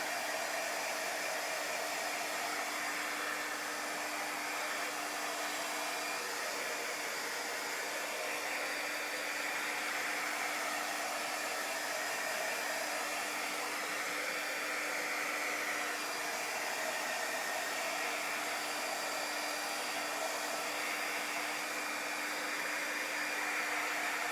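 Hair dryer blowing continuously on a chalk paste project, a steady close whoosh with a constant hum and no pauses or speech.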